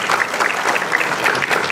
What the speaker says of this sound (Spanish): Fuerte las palmas, señores.